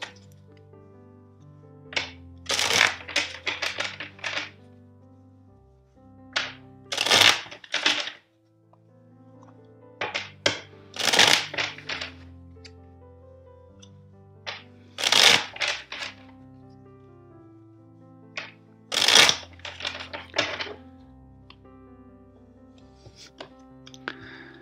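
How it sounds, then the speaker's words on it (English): Crisp bursts of a tarot deck riffling and snapping together, four distinct rounds separated by short pauses, close and clear with no talking. "First, I will shuffle the deck four times for you."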